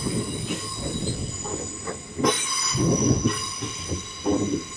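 A Southern train pulls into Portsmouth Harbour station with sharp, sustained wheel squeal ringing over the rumble of the carriages, rising louder in bursts as it rolls close by.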